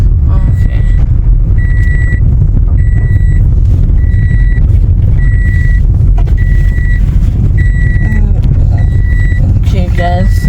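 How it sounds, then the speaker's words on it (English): A repeating electronic seatbelt warning chime pings at a steady rhythm over loud road rumble inside a moving car, with voices briefly near the end. "please excuse the seatbelt noise"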